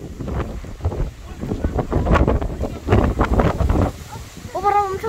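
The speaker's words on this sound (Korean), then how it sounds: "오, 바람 엄청 세." Strong outdoor wind buffets the microphone with a rough, gusting roar while people talk and call out over it.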